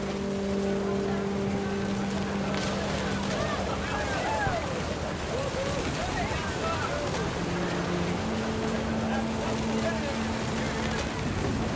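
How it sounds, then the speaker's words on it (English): Heavy rain in the video game What Remains of Edith Finch, a continuous dense hiss of downpour with steady tones of game music beneath it, loud and unbroken. "The rain came down in buckets then"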